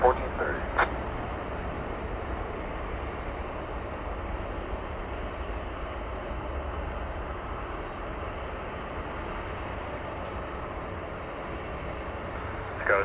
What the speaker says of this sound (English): American 1430, RNAV B Park, runway 18 left, clear for takeoff.